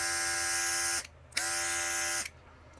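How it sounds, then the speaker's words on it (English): Cordless SprayGunner airbrush running on high, giving a steady, close buzzing hiss with a motor whine. It runs in two sustained bursts with a short pause between them, and no voice is heard. "I'm going to go ahead and kick the airbrush up to high."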